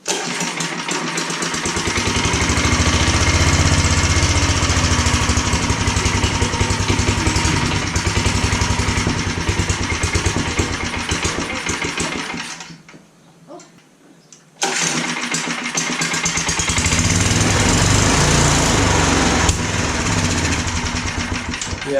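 An old go kart engine found in a barn is cranked and coughs into loud, rough, buzzing running for long stretches. The sound cuts out briefly near the middle, then roars back at close range with no talking.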